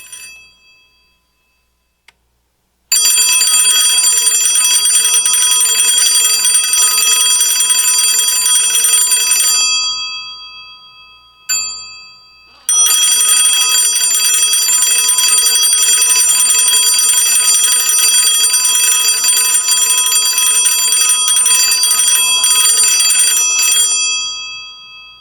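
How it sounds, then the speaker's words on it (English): A loud mechanical bell on a 1938 FF33 field telephone, rung by a generator crank, rings continuously in two long bursts separated by a short pause, harsh and metallic up close. "I'm ringing the telephone."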